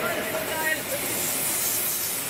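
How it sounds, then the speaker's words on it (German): A passing train gives a continuous broadband rushing hiss, steady and fairly loud throughout, with no distinct beats. "Fährt halt ein Zug vorbei."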